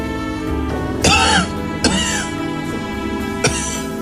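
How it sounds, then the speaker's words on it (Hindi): A mother coughing indoors, with a few sharp, close coughs and throat-clearing bursts spaced apart over a low, steady background tone. "मां की खांसी की आवाज सुनकर"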